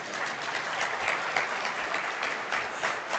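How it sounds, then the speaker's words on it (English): Conference audience at an oil and gas industry event breaks into steady, dense applause that carries evenly for a few seconds, close and unbroken. "I expected you to at least give me a round of applause."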